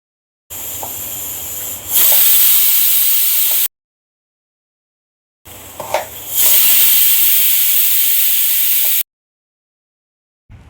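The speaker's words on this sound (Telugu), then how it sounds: "ఇప్పుడు మూత పెట్టేసి విజిల్స్ రానిద్దాము" Pressure cooker on a gas stove cooking misal sprouts in water, two bursts of loud steady hissing as it whistles and vents steam, separated by silence.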